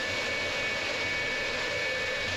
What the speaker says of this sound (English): has just throttled up the engine